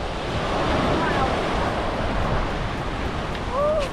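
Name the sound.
wind at seaside tide pools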